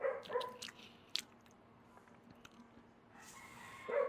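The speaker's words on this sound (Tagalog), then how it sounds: "Nag-iingay yung aso." A dog barks in short bursts near a home kitchen, a few sharp yaps at the start, a single bark in the middle and another cluster at the end, with quieter room sounds between.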